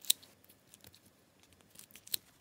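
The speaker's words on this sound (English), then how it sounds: "I know it looks like I'm aggressively like stabbing the slime right now" Scissors snip and stab into dried-up slime, with a few sharp crisp clicks and faint tacky crackles between them, close and quiet.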